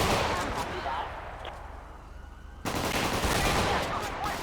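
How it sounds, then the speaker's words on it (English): Bursts of gunfire in the GTA 5 game during a sheriff's armed robbery call at a discount store, with loud broadband shots, a brief quieter lull, then renewed heavy firing. "Shots fired."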